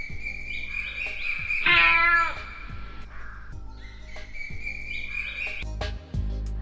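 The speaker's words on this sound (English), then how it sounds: "In the morning, the cat mewed." A cat meows loudly once amid a busy backdrop of other animal and whistle-like sounds, with a sharp burst near the end.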